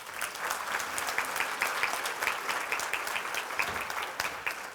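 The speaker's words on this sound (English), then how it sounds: "A round of applause for our panel." Steady applause from a modest audience at a panel discussion, dense clapping throughout at an even level with no voices.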